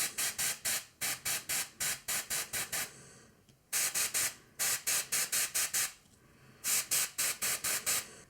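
An airbrush sprays paint onto a Warhammer 40k miniature in quick, rhythmic hissing bursts, grouped in clusters with short pauses between them, close and fairly loud.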